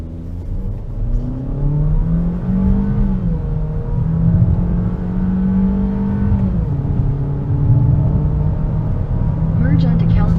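A 2021 Buick Encore 1.4-litre turbo engine pulls hard through the gears from 0 to 60, its steady drone rising in pitch, dipping at each shift, then climbing again, heard from inside the cabin.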